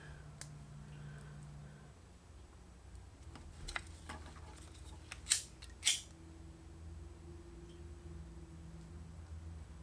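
Small scissors snip back heat shrink tubing that shrank early on a soldered wire, giving a couple of faint clicks and then two sharp, close cuts near the middle over a low steady workshop hum.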